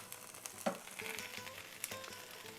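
Birria taco sizzling on a griddle, flipped with a spatula: a soft steady fry with a brief scrape and a few light taps, quiet and close.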